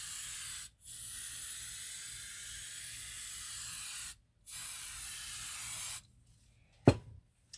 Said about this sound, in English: Put a little bit more hairspray on the top here.